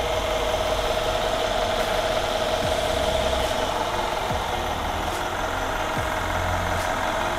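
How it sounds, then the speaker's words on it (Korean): A Mercedes-Benz S500L 4MATIC idles, heard from the open engine bay as a steady, even hum that stays the same throughout with no voices. "엔진 소리 일정합니다."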